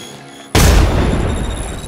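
A frag grenade in the mobile shooter Apex Legends Mobile detonates with a sudden, loud, close blast after a brief quiet lead-in, then a heavy rumbling roar that lingers.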